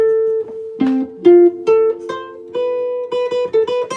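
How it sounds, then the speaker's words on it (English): A melodic instrument plays an arpeggio: a quick run of separate, clear notes stepping through a chord, each note plucked or struck with a distinct attack and short decay, close and fairly loud, with no talking. "So, that's an arpeggio."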